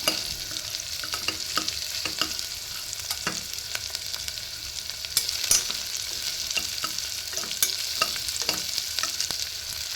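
Ginger garlic paste frying in hot oil, with a steady crackling sizzle and a series of sharp stirring clicks and scrapes spread across the whole stretch, close and clear, no speech.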